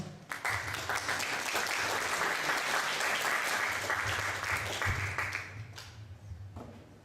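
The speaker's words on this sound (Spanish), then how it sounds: "Fuertes palmas, por favor." An audience applauds at a university book presentation on philosophy, a dense burst of many people clapping that begins abruptly, holds steady for several seconds, then fades out, with a voice briefly heard near the end.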